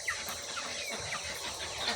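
Jumbo Cornish cross meat chickens on a bird farm cluck and chatter softly and continuously at close range, with scattered small calls over a steady background hiss.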